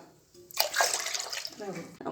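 Water splashes and sloshes close up as soaked urad dal is swished and rinsed in a container, with brief pauses between bursts.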